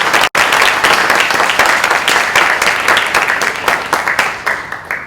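A Seniors Got Talent show audience breaks into loud, dense applause for the sponsors. The clapping is sustained and close, then thins slightly toward the end.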